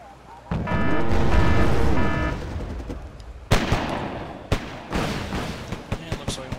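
Gunfire and explosions in the war strategy game Wargame Red Dragon: a heavy rumbling blast, then a sharp burst and a string of scattered shots and thuds, loud and close.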